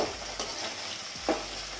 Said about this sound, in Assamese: ভালকৈ এতিয়া এইখিনি লৰাই দিছোঁ।